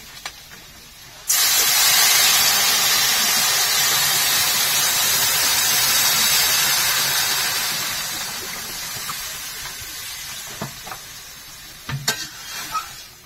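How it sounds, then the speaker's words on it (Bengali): Water poured into a pan of curry after frying, a sudden loud rush of hissing sizzle that starts abruptly and slowly fades, with a few clinks of utensils near the end. "এবার কিন্তু আমি জল দিয়ে দিচ্ছি।"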